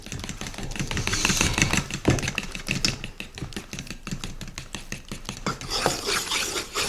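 Muffin batter for banana blueberry muffins with Splenda being mixed in a bowl with a fork, a continuous close clatter of quick tapping and scraping strokes.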